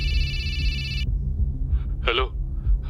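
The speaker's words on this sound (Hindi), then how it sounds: "शैलेंद्र ताऊजी का अचानक से उस रात को 3 बजे फोन आया" A telephone rings in the middle of the night, a bright electronic ring lasting about a second, then a voice speaks over a low background hum.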